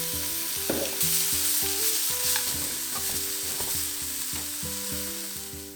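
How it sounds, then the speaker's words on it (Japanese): Zucchini and king oyster mushrooms fry in a pan lightly coated with olive oil, a steady close sizzle broken by repeated scrapes and clacks of stirring, with no talking. "オリーブオイルを軽くひいたフライパンにズッキーニ、エリンギを入れて焼きます。"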